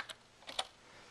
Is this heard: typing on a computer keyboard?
yes